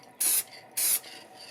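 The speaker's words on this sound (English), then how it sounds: "Let's spray the top part." Two short hissing bursts of a Krylon acrylic sealer spray can, each lasting about a fifth of a second, close and crisp with a brief pause between.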